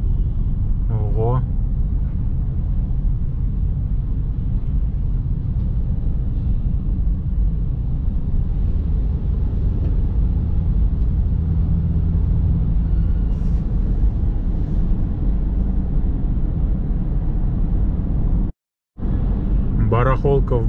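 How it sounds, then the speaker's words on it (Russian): Dense road traffic on a busy street near a weekday flea market and shopping center in Almaty, Kazakhstan, a steady close rumble of many passing cars that runs continuously, with one brief dropout near the end. "Машин, конечно, здесь очень много."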